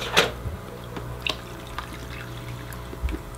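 Water pours and drips into a fish tank filter as it fills to overflowing, heard as scattered splashes and trickling drops at irregular moments over a quiet background.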